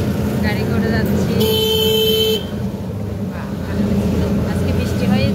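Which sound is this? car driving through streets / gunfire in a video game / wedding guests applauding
car driving through streets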